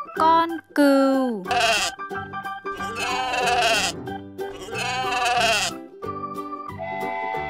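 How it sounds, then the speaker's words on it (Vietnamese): Sheep bleating in several loud, wavering calls separated by short pauses, with a musical backing running underneath, presented in a children's lesson on farm animals. "Con cừu."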